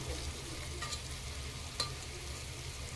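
Potatoes coated in masala frying in a pan, a steady close sizzle with a faint stir or clink partway through.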